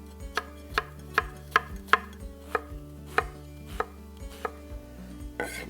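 A knife chops white and red onion on a cutting board in a steady series of about a dozen crisp, close knocks, spaced evenly with no talking.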